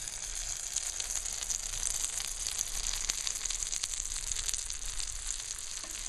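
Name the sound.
breaded veal pan frying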